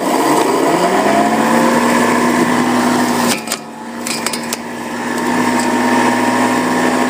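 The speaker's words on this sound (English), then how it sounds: "There's the lawnmower powered up." A steady electric motor whir from an electric lawn mower runs close and loud, dipping briefly in the middle before returning to a constant drone.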